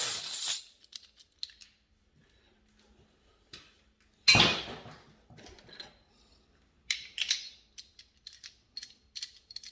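A 12g CO2 cartridge goes into a T8.1 air rifle with a 16-inch Lapco barrel, heard as a few sharp metallic clicks and scrapes, then quieter handling taps and small clacks, close and without talking.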